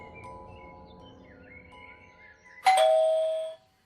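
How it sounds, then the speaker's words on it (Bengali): A single doorbell chime rings out clearly near a house door, a bright ding-dong tone that decays over about a second, preceded by faint background tones and no voices. "বিকালে দরজায় কলিং বেল বেজে উঠল।"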